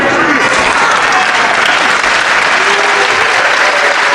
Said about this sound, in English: Bridges certainly got a good round of applause for that tremendous lift